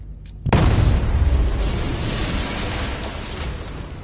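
A large explosion detonates in Batman: Arkham Knight, a sudden deep boom followed by a loud, sustained rumbling roar and debris that slowly fades over several seconds.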